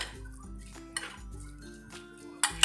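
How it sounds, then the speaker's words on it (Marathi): A spoon scrapes and clinks against a bowl as boiled beetroot salad is stirred, with a few sharp metallic taps over soft background music. "आपण हे मिक्स करून घ्यायचं आहे"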